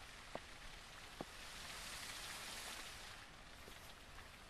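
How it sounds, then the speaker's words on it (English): Steady rain hisses across the open world of the zombie survival game SurrounDead, a soft continuous wash with a couple of faint sharp ticks. "I also can't hear very well because of the rain."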